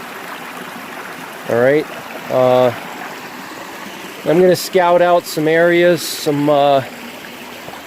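A stream rushes steadily over rocks above silty soil outdoors, a constant close hiss of flowing water running throughout. Someone talks over it in several bursts.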